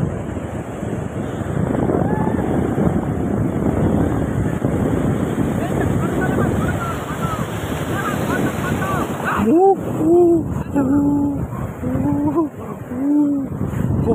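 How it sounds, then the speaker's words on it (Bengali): Sea waves break on the beach at Bakkhali, a loud continuous rushing surf mixed with wind buffeting the microphone; voices talk and exclaim over it toward the end. "ঢেউটা আসতে দাও গাইস।"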